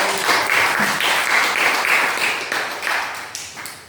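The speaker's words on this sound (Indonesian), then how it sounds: "Baik, kita beri aplaus." Students in a classroom clap together in a steady, dense round of applause that lasts throughout, close and fairly loud, with no speech over it.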